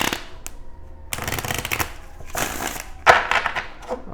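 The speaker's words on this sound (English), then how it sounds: "Let's go ahead and get a shuffle in here." Tarot cards being shuffled in several bursts, crisp riffling flutters close to the microphone separated by short pauses.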